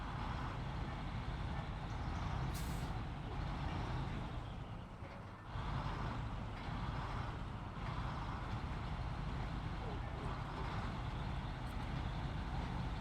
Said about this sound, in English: I mean, the highway truck.